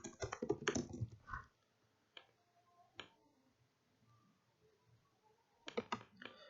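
Typing on a computer keyboard: quiet clusters of close key clicks at the start and end with a few isolated taps between, in an otherwise quiet room.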